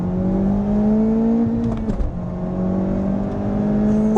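A Honda Civic Type R accelerates hard, its engine note climbing steadily in pitch through a gear, with a brief dip around a shift before pulling again, loud and close.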